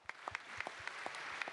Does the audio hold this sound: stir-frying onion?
no